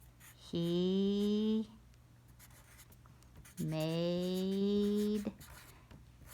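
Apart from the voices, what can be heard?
handwriting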